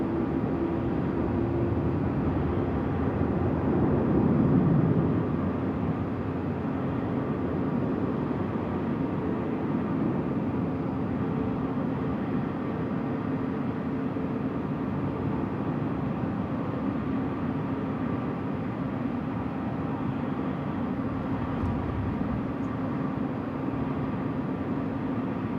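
A FedEx jet takes off at night from runway 16 right at Sydney Airport, giving a long, steady, broadband engine roar that holds nearly constant throughout, heard from a distance with no talk.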